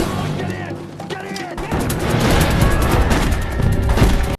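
Gunfire from the creature film Curse of the Komodo, a dense burst of shots and booms rising out of a loud action scene, with speech-like sounds mixed in and continuing to the end.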